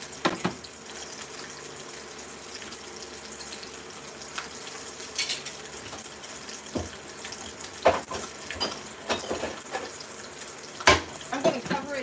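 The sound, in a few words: barbecue sauce boiling in a pot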